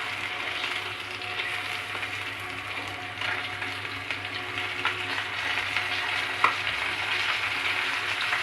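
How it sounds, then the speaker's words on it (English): Fish frying in hot oil in a home kitchen, a steady dense sizzle throughout with occasional small pops and crackles, close and continuous with no talking. "So this frying is done."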